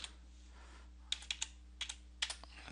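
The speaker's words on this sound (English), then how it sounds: "I could do it all with the keyboard" A computer keyboard is typed on in brief clusters of light clicking keystrokes, fairly close and soft, with quiet pauses between the bursts, while working in meeting-management software.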